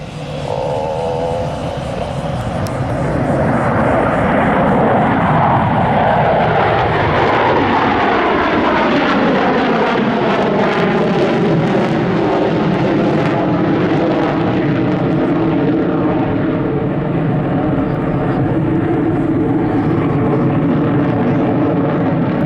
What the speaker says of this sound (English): from your left now, the Blue Angels dirty loop.